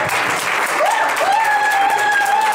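Applause from the audience at a gala's mock presidential debate, a dense, steady clatter of clapping heard up close for the whole clip, with a voice speaking over it.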